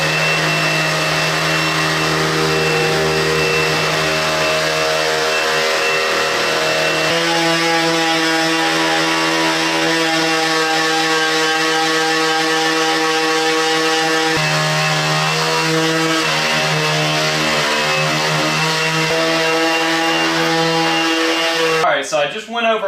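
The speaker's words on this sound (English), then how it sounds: "we're gonna start off first by taking our 120 grit sandpaper and going over the entire counter with it" A power sander works 120-grit sandpaper across a butcher block wooden countertop, a loud continuous motor whine that shifts pitch slightly as pressure changes, running steadily throughout and cutting off abruptly at the end.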